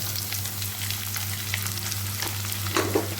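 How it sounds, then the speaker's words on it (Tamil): Chopped onions frying in oil with green chillies and curry leaves, giving a steady close sizzle with a low background hum and a few soft stirring knocks near the end. "வெங்காயத்தை எண்ணெயில் நல்லா வதக்கி விட்டுட்டு"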